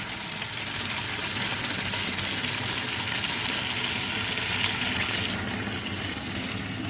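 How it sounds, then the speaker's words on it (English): Water gushes steadily into a bucket as a Rinnai tankless water heater is flushed, a loud continuous rush that changes tone slightly toward the end as the bucket fills. "we go ahead and fill up the bucket with another 2 or 3 gallons of water"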